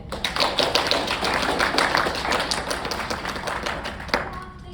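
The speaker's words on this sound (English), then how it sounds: "if you'll give her a big round of applause" A library audience applauds an author, a moderate round of clapping from a modest crowd with distinct individual claps audible, tapering slightly toward the end.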